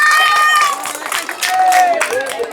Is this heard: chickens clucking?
no